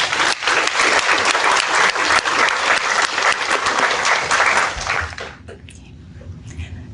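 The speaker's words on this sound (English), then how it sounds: "Let's give them another round of applause." A crowd applauds national anthem singers at a military change-of-command ceremony, with loud, dense clapping that holds steady for about five seconds, then thins out and fades to a few scattered claps.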